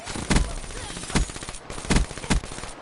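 A VMP submachine gun in Call of Duty fires in short bursts, four sharp loud volleys spaced roughly evenly, with game background filling the gaps.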